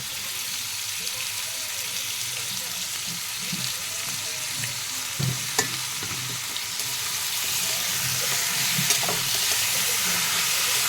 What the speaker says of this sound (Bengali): চিকেন আর আলুটা ভালো করে আমি ভেজে নিয়েছি।